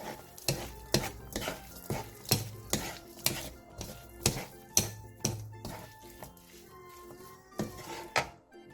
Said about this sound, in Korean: 호박의 숨이 완전히 죽을 때까지 볶아주세요